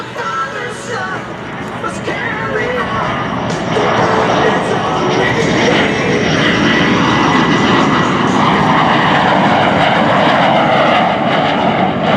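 A Lockheed T-33 Shooting Star jet makes a low pass at the Great Texas Airshow, a loud broad engine roar building and holding steady as it passes, with faint crowd and announcer sound beneath.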